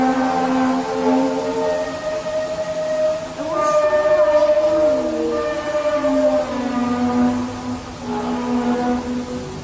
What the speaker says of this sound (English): One of the more popular trumpet sounds videos is from Terrace, British Columbia, and Canada.